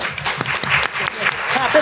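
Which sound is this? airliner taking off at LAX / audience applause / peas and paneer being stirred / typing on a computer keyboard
audience applause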